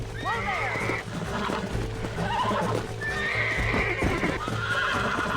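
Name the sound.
wild horse neighing and hooves, Red Dead Redemption video game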